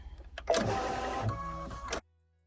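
A home embroidery machine starts stitching a quilt design, a close, rapid mechanical whir and clatter running for about a second and a half before it stops abruptly.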